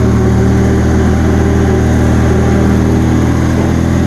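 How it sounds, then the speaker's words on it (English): A Bolens 2000 garden tractor engine runs steadily up close, a loud continuous mechanical drone with strong low harmonics and no pauses, heard on its own without talk. "I guess I'll put the tractor away here."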